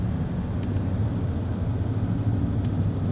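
Pikes Peak race car engine under a hard burst of throttle, a loud, steady low rumble that holds throughout without a break, with no voices.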